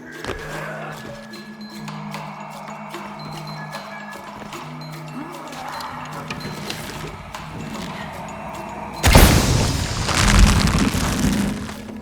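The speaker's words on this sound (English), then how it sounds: "Have to create an explosion." Explosion during play in Shadow of the Tomb Raider, a sudden loud blast that hits late over a busy bed of game ambience and clicking effects, then rumbles and tails off for a few seconds.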